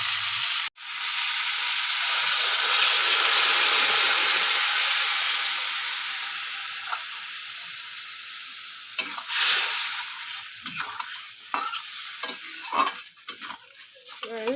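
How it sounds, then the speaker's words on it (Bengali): Water is poured into a hot pan of frying tilapia fish curry with long beans and potato. It sets off a sudden loud sizzle and hiss that slowly dies down, followed by lighter bubbling and stirring scrapes. "এবার আমি পরিমাণ মতো জল দিয়ে দেবো।"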